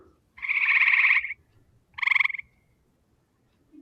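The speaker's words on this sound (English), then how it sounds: "that basically is the Cope's gray tree frog with a slower call" Cope's gray tree frog giving its slower call: two buzzy, pulsing trills, the first about a second long and the second shorter, clear and close over a quiet night background.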